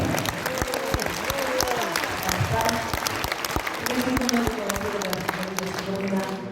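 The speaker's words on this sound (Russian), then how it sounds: "Ваша аплодисменты Алена Яковлева." Dense, sustained audience applause fills a charity concert hall for fire victims, many hands clapping steadily while voices and faint tonal sounds carry underneath.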